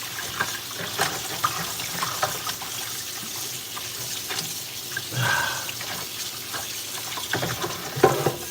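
Tap water runs into a kitchen sink during dishwashing, a steady broadband splash with small clinks and knocks of dishes scattered through it, close by and moderately loud with no talking.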